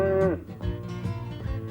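Two cows moo one after another, the first a long clear low call and the second a shorter, rougher bellow, close and loud with no talking over them.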